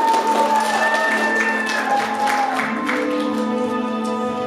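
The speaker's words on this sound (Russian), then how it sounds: "Итак, аплодисменты." An audience applauds in a theatre during an autumn school-holiday theatre presentation. Dense, steady clapping fills the whole stretch at moderate loudness, with music tones underneath.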